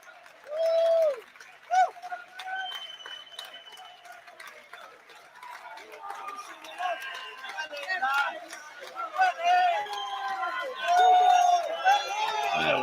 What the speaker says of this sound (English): we'll stay with you just to hear the applause for the rest of the team as they leave the pitch